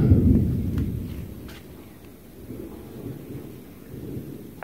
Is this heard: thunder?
yes